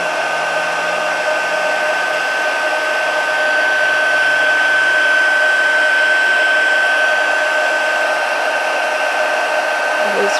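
A heat tool blows hot air to melt embossing crystals on black card, giving a steady, loud hair-dryer-like whoosh with a thin tonal whine running throughout, alone and unbroken.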